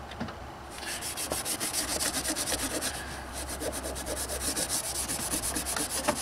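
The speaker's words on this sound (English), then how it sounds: "I'm going to use a Scotch-Brite pad to clean the sealing surface" Rhythmic abrasive scrubbing of a Scotch-Brite pad over the oil filter housing sealing surface on a BMW N55 engine, steady back-and-forth rubbing strokes close up, repeating evenly throughout with no talking.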